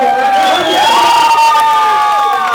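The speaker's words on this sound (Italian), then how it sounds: "Bravi ragazzi, salutateli con un applauso." A live club crowd at a rap show cheers, whoops and applauds for the performers on stage, loud and close, with shouting voices ringing over a brief burst of clapping.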